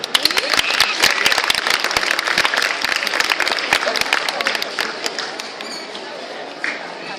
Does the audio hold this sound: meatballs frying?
no